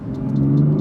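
A BMW M2 under an acceleration pull gives a loud, deep exhaust and engine drone, close up, holding a steady low tone that rises slightly through the short burst.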